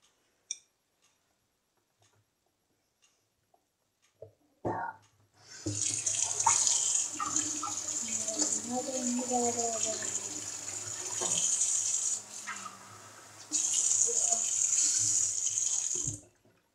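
A kitchen tap is turned on and water runs steadily into a glass for about ten seconds, briefly easing off before flowing again and being shut off, with a few faint clicks before it starts.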